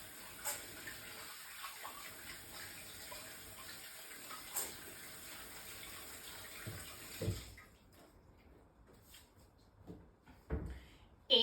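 Running tap water splashes steadily while greasy hands are scrubbed with soap at a sink, a constant close wash that cuts off partway, leaving quiet room noise and a few faint knocks.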